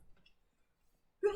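A single sharp sneeze bursts out at the very end after a near-silent stretch, loud and close, with faint indistinct rustling earlier.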